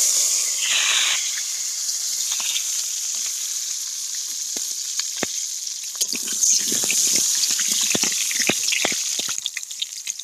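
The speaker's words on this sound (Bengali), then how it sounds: "তেলটা গরম হয়ে গেছে, তেলের মধ্যে দিয়ে দেবো আলু।" Potatoes frying in hot mustard oil in a kadai, a steady loud sizzle with scattered crackling pops throughout, no voices.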